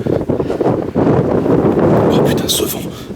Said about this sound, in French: ce vent.